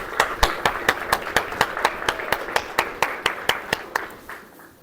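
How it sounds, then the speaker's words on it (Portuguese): Congregation at a Sunday church service clapping in a steady, rhythmic beat, sharp claps repeating about three times a second, then tapering off at the end, with no voices over it. "Vamos aplaudir Jesus"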